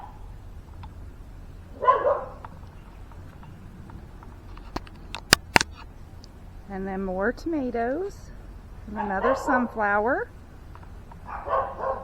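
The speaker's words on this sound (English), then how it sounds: "Sorry about the dogs barking." Dogs bark in short bursts a little way off, several yips clustered together, while a person talks nearby between the barks.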